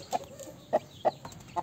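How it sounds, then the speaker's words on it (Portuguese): A free-range hen clucks with her chicks, four short, mid-loud clucks spaced unevenly over a quiet farmyard background with faint high chick peeps. "A galinha com os pintinhos aí, gente"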